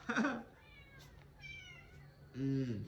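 A house cat meows several times close by, a louder cry at the start and again at the end with softer, thinner mews between, over quiet room noise.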